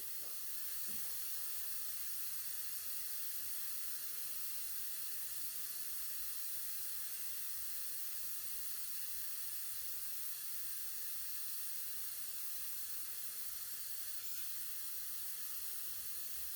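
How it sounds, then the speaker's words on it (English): Air hisses steadily into a 50 inch BOBO balloon being inflated very slowly, a faint constant high hiss that runs unbroken throughout. "We're putting air into it very slowly right now."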